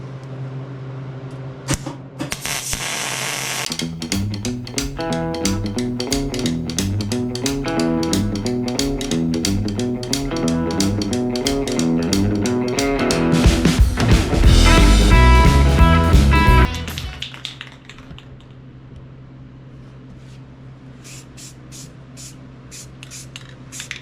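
Aerosol can of 2000 degree ceramic aluminum paint coating sprayed onto a part for a Jeep CJ7, a loud close hiss in rapid repeated bursts over a fan-like hum, then dropping away to quieter background.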